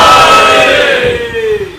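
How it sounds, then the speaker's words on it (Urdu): A large crowd chants a religious slogan in unison at a gathering, a loud sustained collective shout that swells and then tapers off over a couple of seconds. "یہ نعرہ اس لیے لگایا ہے کہ ارادہ ظاہر کر رہے ہیں انشاءاللہ"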